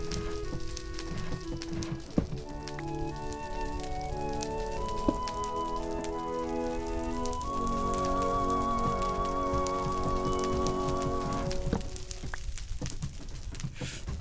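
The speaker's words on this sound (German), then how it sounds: "Es regnet hier sehr häufig" Rain falls in Minecraft as a steady soft hiss, with gentle background music playing over it throughout.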